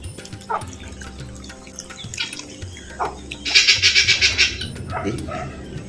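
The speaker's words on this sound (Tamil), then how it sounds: "அதனால் அரை கோப்பை தேங்காய் பால் சேர்த்துக்குவோம்" Coconut milk is poured into kodo millet rice cooking with mushrooms in a home kitchen, giving a brief liquid splashing and gurgling in the middle among quiet clinks and background noise.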